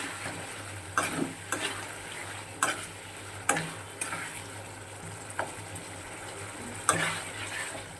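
Spiced masala for a fish curry cooking in a covered pan, with a soft steady sizzle under a string of sharp clinks and taps from a utensil against the pan.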